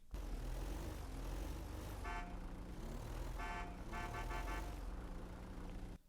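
A car horn honks several times in GTA 5 during a store heist getaway, with a short toot, then a longer blast and a rapid run of beeps over constant engine and street noise.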